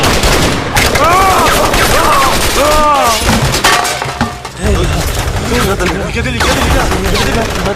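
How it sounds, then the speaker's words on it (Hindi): Film gunfire aimed at a target, with rapid bursts of gunshots crackling loudly in quick volleys, broken by short pauses and mixed with clattering, ringing echoes. "ये गोली की आवाज।"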